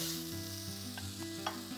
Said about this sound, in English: It's all about keeping it moving and frying everything fast so it keeps its colour and vibrancy.